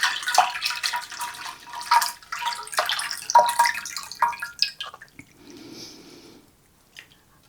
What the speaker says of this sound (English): I'm going to pour this into my 9 by 13 inch dish.